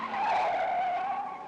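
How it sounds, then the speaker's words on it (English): A standard Mercedes-Benz driven hard on the Stelvio mountain road makes a sustained tire squeal, one loud wavering screech lasting over a second before easing slightly. "this standard Mercedes-Benz is taking the Stelvio road all out."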